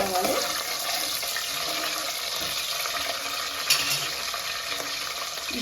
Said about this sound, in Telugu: ఇప్పుడు ఆనియన్స్ ఇవి కొంచెం ఫ్రై అయిన తర్వాత